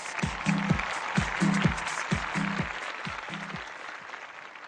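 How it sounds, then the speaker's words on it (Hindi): Audience applause at a Bhojpuri international film awards ceremony welcoming a guest onto the stage, a steady wash of clapping heard alongside rhythmic music beats. "जोरदार तालियों से स्वागत कीजिए प्लीज।"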